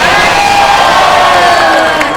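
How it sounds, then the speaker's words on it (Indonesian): Loud, dense crowd noise at a political rally in Samarinda, with sustained cheering and whooping from a large audience filling the space continuously without a break. "Kita kasih tepuk tangan dulu."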